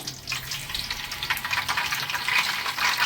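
Curry leaves crackle and sizzle as they hit hot oil while a small fish curry is cooked, a steady, close, continuous frying hiss with no talking.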